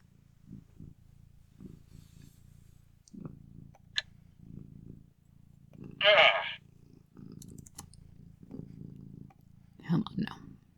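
A cat purrs in low, rhythmic rumbles while being petted, close and steady, with a person talking over it and a brief meow-like cry partway through.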